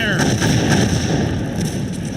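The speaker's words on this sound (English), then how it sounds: "Enemy artillery detected. We are under gunfire." Artillery and gunfire in the Cossacks 2 strategy game, a dense, loud roar of overlapping blasts lasting the full stretch, with a tonal game sound layered on top.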